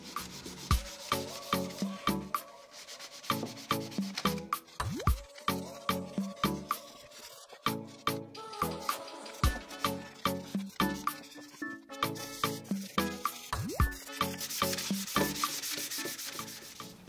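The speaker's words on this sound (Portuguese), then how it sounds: "Agora vou dar o acabamento final com uma lixa usada, essa lixa 180, vou fazer de forma manual" Used 180-grit sandpaper rubs by hand over a piece of scrap-wood work in steady back-and-forth strokes, each a short rasping swish repeating in an even rhythm, close and moderately loud.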